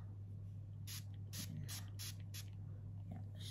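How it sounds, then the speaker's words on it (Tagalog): Alcohol is sprayed onto cotton from a spray bottle in a quick run of short, soft hissing bursts over a steady low hum, fairly close and quiet. "So I will spray the cotton."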